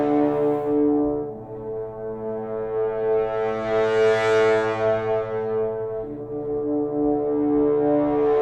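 A low synthesized brass tone holds steadily, swelling brighter and louder in the middle before easing back down, rich and buzzy, with no voices.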